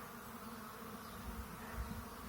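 Honeybees buzzing from an opened hive, a steady, dense drone close by, swelling slightly in the second half, with no voices.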